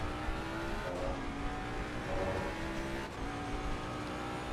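Race car engine in the Assetto Corsa Competizione game, a steady droning roar that rises and dips slightly as the car drives on, moderately loud with no talk.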